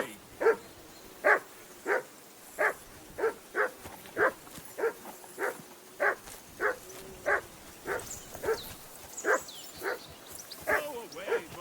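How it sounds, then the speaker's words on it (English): A dog in the medieval game Kingdom Come: Deliverance II barks and whines in a steady series of sharp, evenly spaced yelps, close and insistent, continuing for many seconds. "Call off that damn dog"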